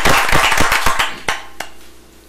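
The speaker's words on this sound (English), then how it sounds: "Let's have a round of applause for him." A brief round of applause from a council meeting audience, a burst of scattered clapping that thins out into a few final isolated claps before fading.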